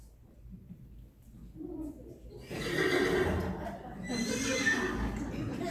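A horse neighs and whinnies in a video game, the call loud and close, rising over a low steady background with faint hoof clops.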